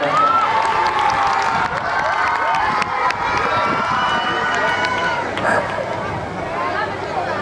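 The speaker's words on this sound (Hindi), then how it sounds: "तो जोरदार तालियों से स्वागत कीजिए अभिजीत का।" Applause and cheering from a school assembly crowd welcoming a student performer, a dense continuous wash of clapping and shouts with voices mixed in throughout.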